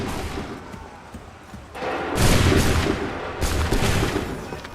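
Gunfire in Assassin's Creed 3, a quiet lull broken by a loud volley of musket fire, then a second burst a moment later, with crackling reports over a rumbling battle.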